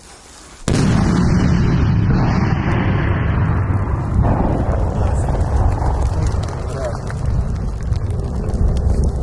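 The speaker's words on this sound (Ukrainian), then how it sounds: "Отак може бабахнуть, якщо не слухати і їздить по неізвісним дорогам" A loud, sudden blast from an explosive device on an unknown road in a war zone, followed by a sustained roaring rumble and debris noise that lasts several seconds.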